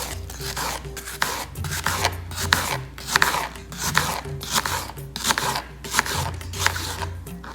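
Knife roughly chopping masala ingredients for saag tofu on a board, with steady, fast repeated strokes close by and no talking.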